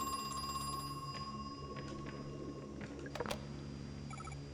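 In the video game Crow Country, a telephone rings faintly over a steady humming ambience, with a brief sharper clatter near the end and no speech.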